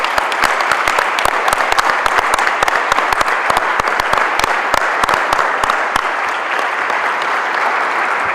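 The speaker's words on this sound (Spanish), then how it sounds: "pido para todos ellos un aplauso" An audience at a presentation of a digital library of stage creators applauds steadily, a dense, loud wash of many hands clapping throughout with a few sharper claps standing out, and no voices over it.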